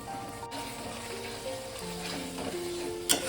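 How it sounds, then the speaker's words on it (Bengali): Chana masala spice paste being sautéed in a pan, a low, steady sizzle with faint stirring, a soft clatter near the end. "মিনিট 3-4 ধরে ভালো করে মশলাটাকে আমি কষাবো"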